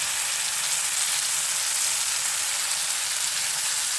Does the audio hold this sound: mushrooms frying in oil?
yes